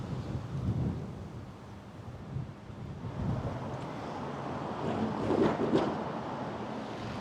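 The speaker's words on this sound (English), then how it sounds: "A windy day to go with the humidity." Steady broadband wind rumble buffeting a microphone outdoors by the trams in Toyohashi, Japan, with gusts swelling and easing throughout, no voices.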